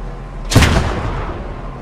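A tank cannon fires once in the Squad 44 game during a Sherman versus Tiger engagement, a single loud, close boom that rolls off into a low rumbling tail.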